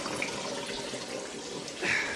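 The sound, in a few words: water hitting a bowl, making it rock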